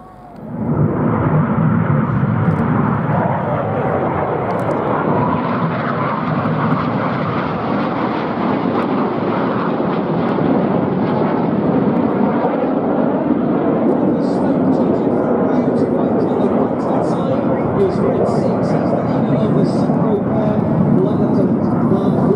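Red Arrows jets flying their air show display at the Duxford VE Day anniversary show, a loud, sustained roar of jet engines throughout, with a commentator talking over it.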